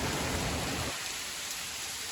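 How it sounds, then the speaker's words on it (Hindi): Heavy monsoon rain pours down in a dense, constant hiss, louder and fuller at first and then easing slightly, with no talking. "देखो कितनी तेज बारिश है, यहाँ भी बूंदे आ रही हैं, यहाँ पे भी।"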